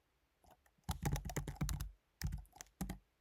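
Close, quiet typing on a computer keyboard: a quick flurry of key clicks, a short pause, then a few more scattered keystrokes, with no talking.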